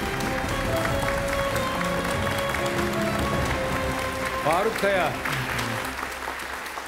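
Studio audience at a Turkish Quran recitation competition show claps in sustained, dense applause throughout, with a voice speaking over it briefly.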